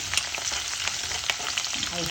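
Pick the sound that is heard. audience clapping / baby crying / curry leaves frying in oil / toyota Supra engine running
curry leaves frying in oil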